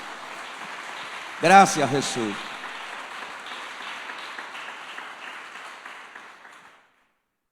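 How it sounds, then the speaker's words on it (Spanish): A church congregation gives steady, moderately loud applause in praise during a Spanish-language sermon; someone speaks briefly over it near the start, and the clapping continues until it stops abruptly. "Dale un aplauso de alabanza al Señor"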